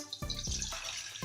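A glass of water poured for sugar syrup, a short close splashing gush of liquid lasting about a second, with no voices.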